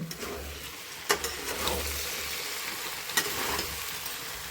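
Chopped, washed green beans tipped into a hot pan, with a steady sizzle and frying hiss, a couple of sharp clatters and stirring noises over the top.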